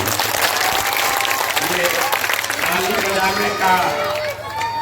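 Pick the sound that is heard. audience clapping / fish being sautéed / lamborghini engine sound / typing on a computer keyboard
audience clapping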